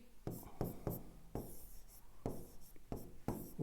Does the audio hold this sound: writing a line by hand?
yes